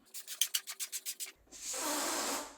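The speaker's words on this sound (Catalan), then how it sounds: "i després inflem el més gran" Balloon being inflated for a Halloween spider decoration: a quick run of about ten rhythmic rubbing puffs, then a steady, close rushing hiss of air.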